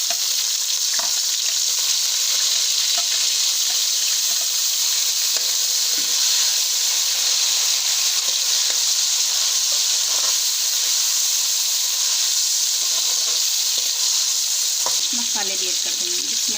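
Tomatoes fry with turnip greens in a pan, a dense, constant sizzle close by that holds for the whole stretch. Occasional scrapes from stirring and a short clatter come near the end.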